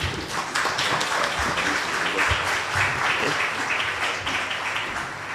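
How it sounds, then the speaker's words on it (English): Crowd applause fills a conference hall at an emergency management community resilience opening ceremony, steady dense clapping from many hands sustained throughout at a loud, even level. "clap yourself"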